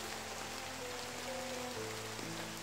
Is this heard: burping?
no